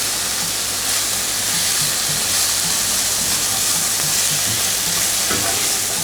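Carrots fry in a hot pan for chicken lo mein, giving a constant close sizzle and hiss with faint stirring scrapes and no voices.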